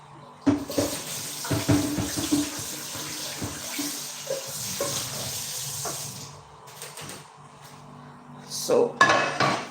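Pots, pans and utensils clatter and clink on a home kitchen stove while cooking coconut fish sauce, with a tap running water in the background and a sharper cluster of metallic knocks toward the end.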